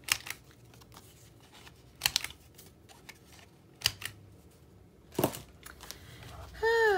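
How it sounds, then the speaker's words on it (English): A handheld corner rounder punch trimming paper corners for craft magnets, giving a few sharp, separate clicks and crunches spaced about a second or two apart, close and fairly quiet, with light handling noise between. "I'm just going to use my corner rounder and just round my corners."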